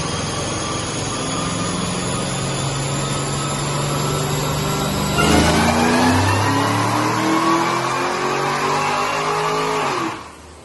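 A 2010 Cadillac CTS-V with 2.45/8.66 pulleys, headers, Air Raid intake and stock mufflers on a dyno, its supercharged engine pulling in one loud, steadily rising rev with a whining climb before cutting off sharply at the end.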